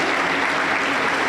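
A Pentecostal church congregation claps together in a dense, steady burst of applause, close and loud, lasting only a moment.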